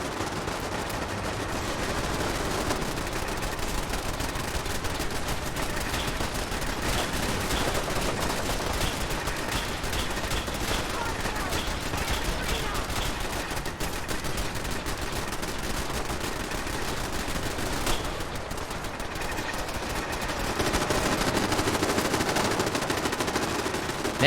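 Near-constant automatic gunfire and heavy shooting rage without pause during a long final battle in the video game Fallout 4, a dense sustained barrage with no talking.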